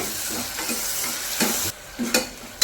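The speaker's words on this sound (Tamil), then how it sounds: "தக்காளி நல்லா வதக்கிக்கலாங்க" Tomatoes with salt and turmeric sizzle and hiss in a hot pan, with a spoon stirring and scraping in short bursts, close by and without talking.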